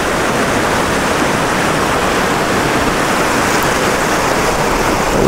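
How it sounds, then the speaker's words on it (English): A river running high at Millstream Gardens gives a dense, loud, unbroken rush of water, steady and close throughout with no voices. "River is running pretty good, better than what it was when they was having the kayak races."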